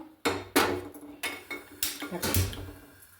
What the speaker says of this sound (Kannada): ಈಗ ಒಂದು ಕುಕ್ಕರ್ ಬಿಸಿ ಮಾಡೋದಕ್ಕೆ ಇಟ್ಕೊಂಡಿದ್ದೇನೆ